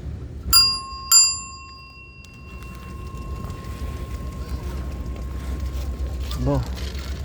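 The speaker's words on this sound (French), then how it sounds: "Même la petite sonnette." Small bell on a bicycle ridden through Paris near the Concorde, rung twice in quick succession with bright, ringing tones that decay slowly, followed by street ambience and faint background sound.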